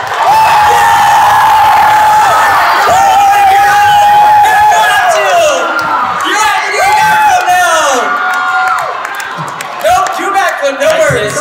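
Convention crowd at the FanX 2022 Cobra Kai panel cheering, whooping and clapping for the cast, loud and close, with excited shouts rising and falling over the clapping.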